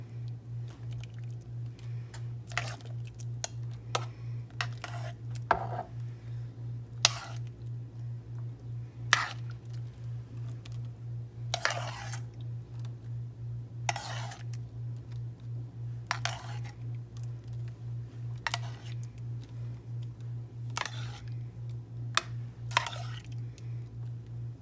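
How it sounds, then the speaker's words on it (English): Blackberries in syrup being spooned over a cobbler, with soft wet squishes and occasional light spoon taps spread irregularly, close and quiet over a steady low electrical hum. "Now you want to take your blackberries with the syrup. Just kind of spoon it over top."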